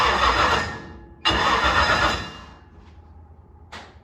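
A factory stock race car engine fires after ignition: a loud burst of cranking and catching, a cut, then a second strong surge that settles into a lower idle, followed by two brief sharp noises.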